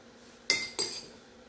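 A metal spoon clinks twice against a plate while a vegan dish is being dressed, two bright, close taps about a third of a second apart, each ringing out briefly in a quiet room.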